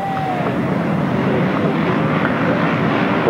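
Grasstrack racing motorcycles hold a loud, steady roar of revving engines at the start line, mixed with wind buffeting against the microphone and no clear gaps.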